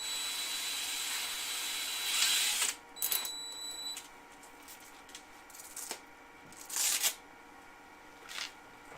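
Quick passes of 80-grit sandpaper on a wooden peg spinning on a lathe give soft, rasping bursts of friction, close and fairly quiet, separated by short pauses over a low steady hum.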